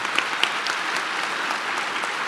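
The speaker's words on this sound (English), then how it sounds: "All right, let's give Diane another round of applause." Conference audience gives a keynote speaker at a public employees diversity conference a round of applause, many hands clapping in an even, steady roar with a few sharper individual claps standing out.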